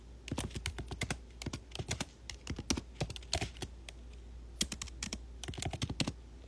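Someone types on a computer keyboard, giving quick irregular bursts of sharp clicks with short pauses between runs, close and fairly quiet, with no voices.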